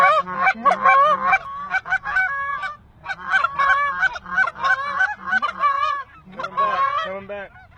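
A flock of geese honks loudly and continuously at close range, with many overlapping calls in dense bursts.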